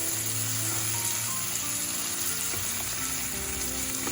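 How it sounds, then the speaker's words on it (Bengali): Spice paste for mutton curry, made with tomato and sour yogurt, sizzles steadily in a hot pan as it is stirred and scraped, with a dense, continuous frying hiss. "এটাকে ভালো করে এবারে কষিয়ে নিতে হবে।"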